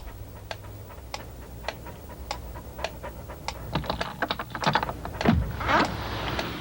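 A dog pants in a TV commercial, with rhythmic, evenly spaced breaths repeating throughout and growing busier and louder toward the end.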